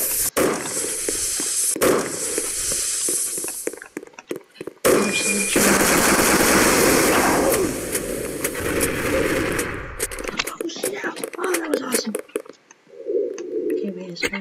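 Gunfire in a Roblox video game: loud bursts of rapid shots and sharp single cracks, clustered in the first half, separated by brief gaps; a voice talks during the fighting.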